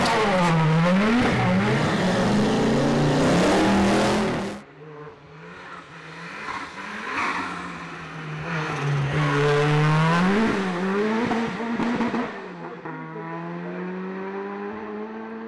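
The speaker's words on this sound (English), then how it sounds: "We're getting off the line, it's really high geared, first gear is really high" A 500 hp rear-drive car with a live axle launches hard up a hill climb, its engine roaring through a high first gear with rising revs, then a brief drop and renewed climbs through further gears, loud and close throughout.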